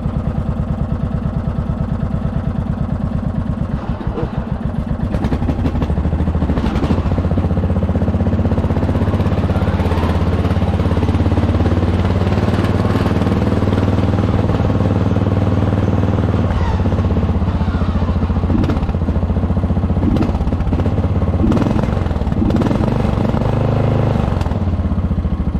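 A Murray lawn mower garden tractor with a swapped pulley runs steadily through a warm-up lap, its small engine droning continuously with rattling clatter and scraping vibration, close and loud throughout.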